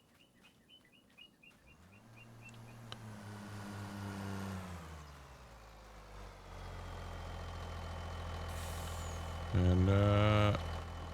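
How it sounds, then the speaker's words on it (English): An engine rumble builds and holds, with a truck driving past in Farming Simulator, a low steady drone that swells mid-clip. Birds chirp near the start, and a brief tonal burst rises toward the end. "kind of impressive that that truck made it all the way around"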